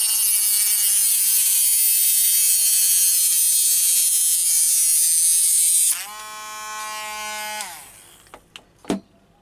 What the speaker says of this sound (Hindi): इसलिए पहले तार को लगाया जाता है और उसके बाद में इसी ग्राइंडर से हम तार को काटेंगे।